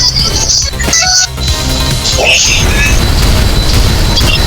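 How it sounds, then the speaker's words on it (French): A booming explosion in a Roblox Super Smash Bros-style fighting game bursts amid continuous game noise and chatter, loud and close, with rumbling low end throughout. "Pourquoi il y a quelqu'un qui a fait une explosion?"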